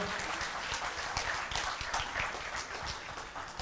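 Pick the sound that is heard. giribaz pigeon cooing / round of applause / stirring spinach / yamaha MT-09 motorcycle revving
round of applause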